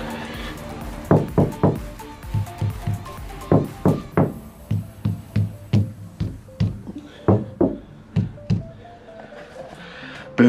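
Knuckles rap repeatedly on a Ford Transit van's metal panel lined with DODOMAT thermal liner, producing a steady series of dull, close thunks, about two per second, with no talking.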